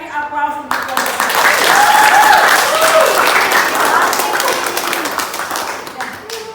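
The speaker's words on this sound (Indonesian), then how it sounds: "Sekali lagi aplaus untuk kelompok." A school class group gets a burst of crowd applause in a room, dense clapping swelling quickly, holding loud for several seconds, then thinning out, with voices talking and cheering over it.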